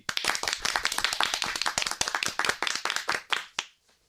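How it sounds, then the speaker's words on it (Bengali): A group of listeners at a teen listeners' club applauds to welcome a guest, with dense, steady hand clapping for about three and a half seconds before it tapers off and stops. "এসো, প্রথমে আমরা তাকে করতালির মাধ্যমে স্বাগত জানাই।"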